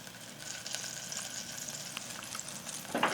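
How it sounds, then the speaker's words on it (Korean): Butter melts in a pot over very low heat with a soft, steady sizzle, light crackles and a brief clatter near the end. "그리고 버터를 넣고 녹여주세요."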